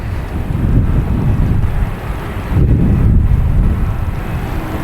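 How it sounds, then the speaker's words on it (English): Delta Airlines jet taking off at Boston Logan Airport, a loud, steady low roar heard outdoors with wind buffeting the microphone, swelling slightly partway through. "Next taking off is Delta Airlines"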